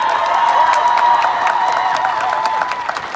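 A rally crowd keeps clapping and cheering, a loud, continuous wash of applause with sharp individual claps and raised voices throughout.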